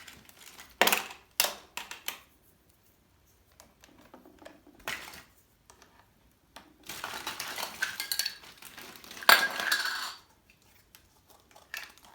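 Small toy dishes, a toy pot lid and a glass clink and clatter in short bursts, with quiet pauses between handling sounds, close by.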